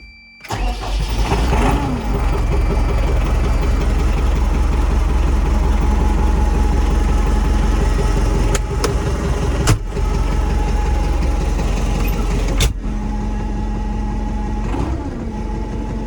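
A truck engine with an aftermarket exhaust and air intake cranks and catches, then settles into a steady, loud rumbling idle, with a few sharp clicks or knocks along the way.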